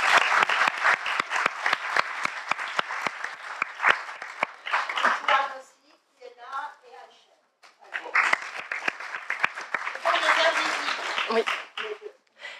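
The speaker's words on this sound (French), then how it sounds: "Je pense qu'on peut applaudir tous les trois." Audience clapping at a colloquium in the French Senate, a crowd applauding with sharp, fairly close claps, then a short lull with speech before a second burst of applause.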